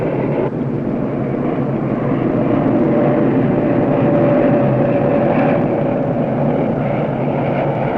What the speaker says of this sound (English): And then there are the B-52 bombers striking from nearby Thailand.